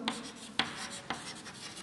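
Marker or chalk scratching across a classroom board during a physics lesson on electric potential, a few short distinct strokes over a steady room hiss, with no talking.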